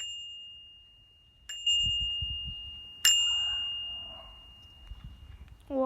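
Bicycle bell on a bike rung twice, each a bright sustained ding at about 1.5 and 3 seconds that rings out and decays, with faint handling rustle between and no talk.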